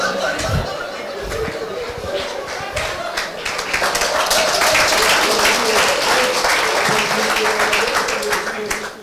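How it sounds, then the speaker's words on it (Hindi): An audience at a motivational speech on Kangen breaks into sustained applause, dense clapping that swells and holds for several seconds, with some chuckles and voices mixed in. "कुछ लोगों को थोड़ी समझने के बाद ताली बजी"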